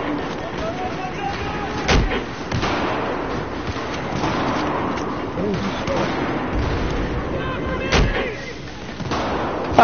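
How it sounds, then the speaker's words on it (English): Rocket explosions in the Battlefield 4 video game, two sharp booming blasts about six seconds apart amid continuous gunfire and battle noise, with a voice talking over it. "Getting them with the rockets."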